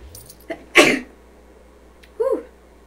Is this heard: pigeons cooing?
no